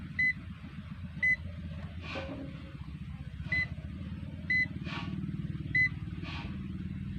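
Short electronic beeps from an appliance buzzer sound in pairs at regular intervals over a low, steady motor hum.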